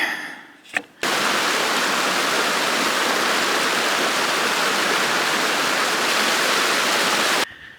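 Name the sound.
river water flowing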